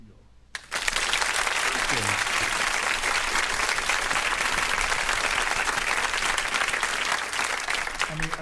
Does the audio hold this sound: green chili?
no